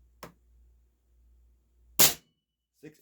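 Diana RWS M34 .22 air rifle fired once indoors: a faint click, then one sharp, loud crack of the shot, followed by a fainter clack, with near silence in between.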